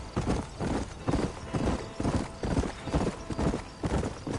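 Horse hooves gallop in the Red Dead Redemption video game, a steady, rhythmic clip-clop of repeated beats that stays close and clear throughout, with no talk.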